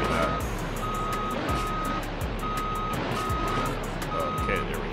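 A tow truck in BeamNG Drive gives off a steady series of evenly spaced electronic reversing beeps, about six pulses over a low engine drone, with someone talking over them.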